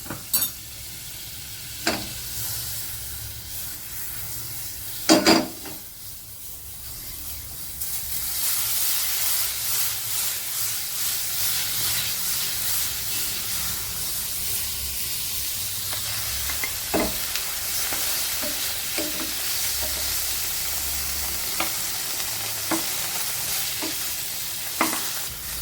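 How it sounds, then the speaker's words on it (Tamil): Paneer fries in a little butter in a pan for kadai paneer, giving a steady close sizzle and hiss. A few sharp stirring clatters come early, and the frying grows louder and more even after the first several seconds. "கொஞ்சமாக பட்டர் சேர்த்து பன்னீரை ஃப்ரை பண்ணி எடுத்துக்கிறோம்."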